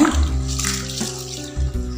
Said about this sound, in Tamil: ஃபஸ்ட்டு தடவை தண்ணி ஊற்றுறப்பே நல்லா இது போல் அழுத்தி அரிசியை பிசைஞ்சிக்கங்க.